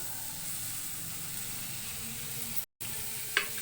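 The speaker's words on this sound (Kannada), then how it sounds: "ಇವಾಗ ಟೊಮೊಟೊ ಚೆನ್ನಾಗಿ ಫ್ರೈ ಹಾಕಬೇಕು ಫ್ರೆಂಡ್ಸ್" Tomatoes sizzle and fry steadily in a pan for egg bhurji, a continuous close hiss with a brief gap and a light clatter near the end, no voices.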